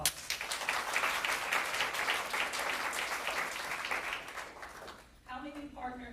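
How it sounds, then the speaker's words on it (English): A seated audience at a leadership workshop breaks into brisk applause that holds steady for about five seconds, then fades as a voice returns. "Let's give them a round of applause."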